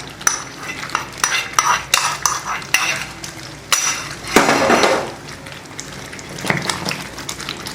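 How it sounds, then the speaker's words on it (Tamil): Thirunelveli wheat halwa with ghee and roasted cashews is stirred in a pan, giving close, rhythmic scraping and clinking of a spoon against metal over a soft sizzle. "கொஞ்சம் முந்திரி பருப்பு வறுத்து இதில் சேர்த்துக்கிறேன்"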